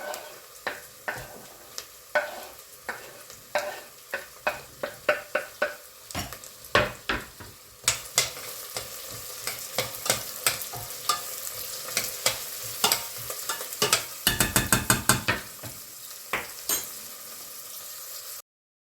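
Onion sizzles and fries in a pan for mushroom soup while a utensil stirs and scrapes it, giving repeated clattering strokes over a steady hiss, close and moderately loud, with no talk.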